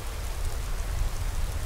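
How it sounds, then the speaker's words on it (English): Steady rain falling in the video game Skyrim, an even, continuous hiss of downpour with no breaks, moderately loud and heard alone. "Ah, smell that rain."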